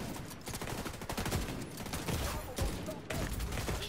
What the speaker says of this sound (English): Where the fuck did he shoot from?